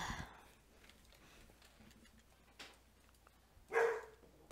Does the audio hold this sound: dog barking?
yes